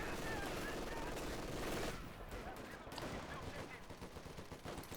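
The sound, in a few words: machine gun firing in Company of Heroes 2 video game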